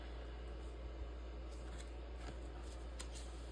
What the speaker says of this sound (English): Cut little banner pieces and stuff like that.